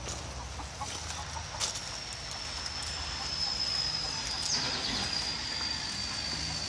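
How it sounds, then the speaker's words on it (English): Chicken on a beach, faint scattered clucks against a steady wash of wind and ambient outdoor noise with a thin high tone running through. "There's a chicken on the beach."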